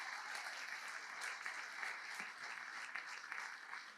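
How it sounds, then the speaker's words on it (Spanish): A church congregation applauds together, a dense, steady wash of clapping that holds at an even level from start to finish with no voices over it. "Vamos, dése un fuerte aplauso a usted mismo."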